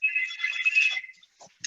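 A phone ringtone plays close by as a sustained electronic tone for about a second, then trails off into brief quieter blips.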